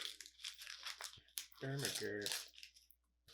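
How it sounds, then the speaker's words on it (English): An onion being peeled by hand, its dry papery skin crinkling and tearing in short close bursts between moments of a voice talking. "So I'm just gonna cut this onion. First I'm gonna peel it."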